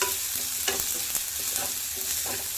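Carrots fry in a hot pan with a continuous close sizzle and a few sharper crackles and stirring scrapes, loud and steady, and nobody talks.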